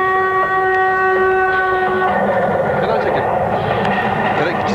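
A train passes close by with a loud, sustained rumble and a horn-like tonal blast at the start, while voices talk over it.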